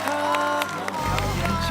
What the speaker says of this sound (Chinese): 我们掌声欢迎主持界的 No.1 曾舜晞